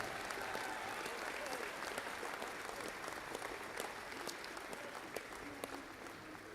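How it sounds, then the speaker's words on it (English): Crowd applause at a WIAA girls Division 4 basketball sectional final: a steady, dense round of clapping from a gym audience, fairly even throughout with scattered louder claps. "Large round of applause for the Sheboygan Lutheran Crusaders."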